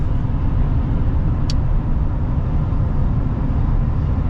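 Steady low road and tire rumble from inside a moving pickup truck, a Ram TRX, Ford Raptor or GMC Sierra AT4X off-road model, a constant loud cabin drone with one brief faint tick and no voices.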